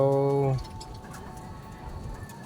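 A cockatiel feeding its chick: a brief harmonic chirp opens, then soft continuous rustling and faint patter as the chick is fed close by.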